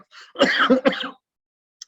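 A single harsh throat clearing rolls into a short cough, close and loud, followed by silence and a tiny click at the end.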